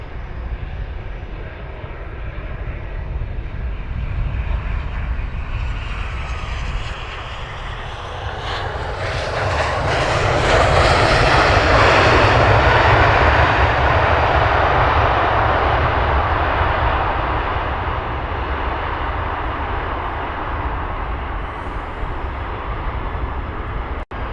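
A Ryanair airliner lands at Luton Airport with a loud, steady jet engine roar that swells to a peak midway and then holds on a sustained rumble, with no voices over it.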